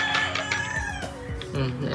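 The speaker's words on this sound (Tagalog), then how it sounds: "Nakailang tilaok na, nabilang nyo ba?" A rooster crows nearby, a harsh drawn-out call with clucking mixed in, over a low background of other sounds.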